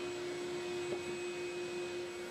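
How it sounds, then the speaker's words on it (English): A workshop dust collector runs with a steady, even whooshing roar and a fixed tonal hum, moderately loud and unchanging throughout, with no talk. "I think I'm gonna turn the dust collector on first because there's a whole bunch."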